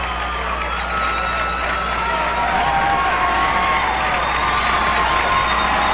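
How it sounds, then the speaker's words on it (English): Fans cheer at a PIAA AA boys high school soccer final, a steady wash of crowd noise and applause from a packed crowd, continuous and fairly loud throughout with no clear individual voices rising above it. "There you see the fans cheering for Octorara"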